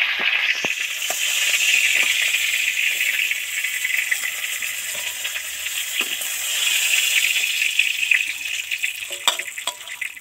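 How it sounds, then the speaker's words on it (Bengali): Tiger prawns deep frying in oil in a pan, a bright, steady hiss and bubbling sizzle that swells and eases, with occasional clinks and knocks of a utensil. "চিংড়িগুলো তো ডিপ ফ্রাই করে ভেজে নিলাম, দারুণ একটা ফ্লেভার বেরিয়েছে।"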